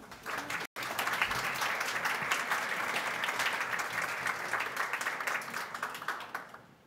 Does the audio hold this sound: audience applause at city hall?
yes